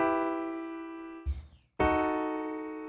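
A sustained sad chord played in a dark Bloodborne-like style cuts off briefly, then gives way to a second, more disturbing held chord, both ringing with soft decay and no speech.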